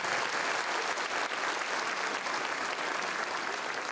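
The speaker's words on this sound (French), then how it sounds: "je pense que ça vaut la peine de les applaudir pour ça aussi" Dense, continuous audience applause at a Christmas show in Lac-au-Saumon, Quebec, sustained at an even level throughout without any voices.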